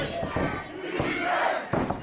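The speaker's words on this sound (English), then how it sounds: "Now Benny and the crowd calling for some defense from Marbury." A wrestling crowd roars and chants in rhythm for Jermaine Marbury during his match against Julius Draeger, a dense, loud wall of voices with repeated surges throughout.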